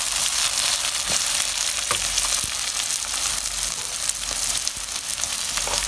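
Chopped tomatoes for a mixed vegetable sabzi hiss in hot oil in a pan, a loud continuous sizzle close by, with a few soft knocks from the stirring spoon now and then.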